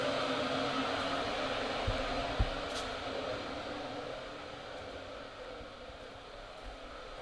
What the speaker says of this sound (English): the kettle boiling.